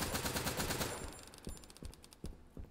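Rapid automatic gunfire from a 999-round gun in the video game My Friendly Neighborhood: a dense, loud burst of shots, then several separate single shots spaced apart, with no talking.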